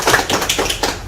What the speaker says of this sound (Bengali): তার জন্য আমরা একটা হাততালি দেব।